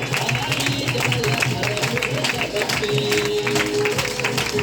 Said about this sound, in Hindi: तालियां बजती रहनी चाहिए, जब तक नहीं आएंगे तब तक ताली बजेगा